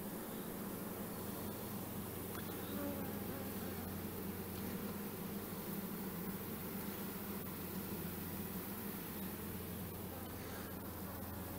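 Honeybees crowd a hive frame during queen rearing, giving a dense, steady buzzing drone that holds unbroken throughout, close and even in level, with no voices over it.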